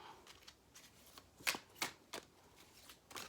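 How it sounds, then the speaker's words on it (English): Tarot cards being shuffled by hand, a series of quiet riffling bursts spaced irregularly, a few sharper and louder than the rest, close by with no talking. "that's a shit shuffle"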